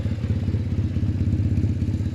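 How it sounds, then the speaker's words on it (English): A 2005 BMW R1100S Boxer Cup Replica motorcycle with underseat exhaust idles with a steady, low, pulsing exhaust rumble, even and moderately loud throughout, with no voices. "Put the underseat exhaust, there's a nice little rumble to it."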